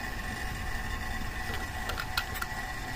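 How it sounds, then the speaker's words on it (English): A vacuum pump pulling vacuum on the air conditioning system of a 2007 Honda Accord LX 2.4L, a steady, faint mechanical whir with light rattling clicks near the end and no speech. "So, I'm going to disconnect the vacuum pump."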